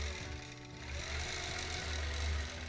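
Sewing machine running steadily during free motion quilting as a seam allowance is eased under the hopping foot: a continuous low mechanical hum and rapid rhythmic stitching, close and even, with no voice.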